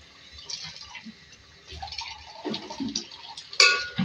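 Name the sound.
stirring yogurt into the keema in a pot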